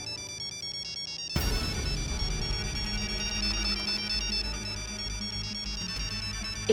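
A phone ringtone plays, loud and close, as a repeating electronic melody. It starts faintly, then jumps to full volume and keeps ringing steadily, with no one speaking over it.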